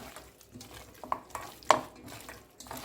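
Meat marinade with castor oil being stirred and mixed for a vuna mangsho dish, heard as faint, soft wet scraping with a few light clinks of the spoon against the bowl, close by and quiet, with no talking.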